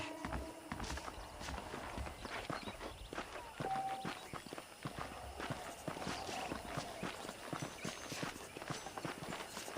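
Horse hooves clip-clop steadily in Red Dead Redemption, a rhythmic walking gait up close with a brief whinny mixed in, over quiet ambient background.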